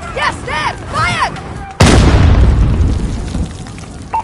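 A missile launch and explosion in the video game Call of Duty Modern Warfare: a sudden loud booming blast after chirpy radio-like sounds, then a long rumbling decay.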